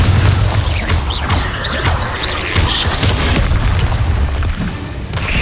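Confringo fire-spell blasts in a Harry Potter video game, loud booming explosions with crackling bursts and whooshes repeating throughout, dense and close with no pauses.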